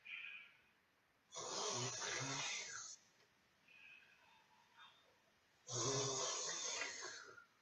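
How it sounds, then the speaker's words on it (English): Slow yoga breaths in a children's class, drawn in over the tongue and let out through the nose: two long, airy, hissing breaths a few seconds apart, close and fairly loud, with quiet murmuring between them. "breathing in over the tongue, out through the nose"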